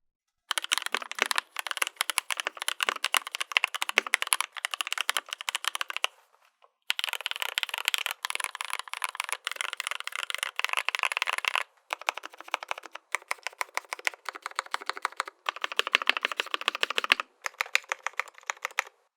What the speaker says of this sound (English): I'll start off with lubed and filmed GMK Cherry Profile